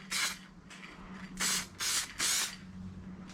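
Aerosol finish sprayed onto a Subaru gauge pod for an SF5/GC8, a short burst followed by three longer hissing passes close by, with quiet pauses and a low background hum between them.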